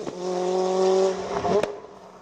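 A JD 1400 Turbo race car climbing a hill-climb course, its engine whining in a rising and falling tone as it passes, loud, with a sharp crackle near the end.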